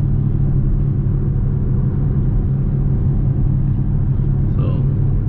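A car fitted with aftermarket headers cruises on an open road, its engine giving a steady, loud low rumble that holds constant throughout with no clear revving.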